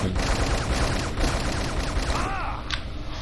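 Rapid continuous gunfire in the online shooter WolfTeam, a loud close stream of automatic shots filling nearly the whole short stretch before easing off at the end, with a voice faintly underneath.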